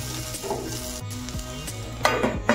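Raw banana pieces cook in a pan on medium gas, with a continuous sizzle, occasional stirring scrapes and a couple of louder clatters near the end, and no speech.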